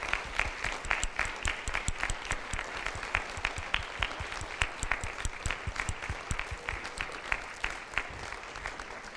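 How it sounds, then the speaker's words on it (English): Sustained applause from a seated audience at a senior graduation service, honoring the graduates' parents; many hands clap in a dense, steady wash with sharper nearby claps standing out, lasting throughout without talk. "giving them a round of applause"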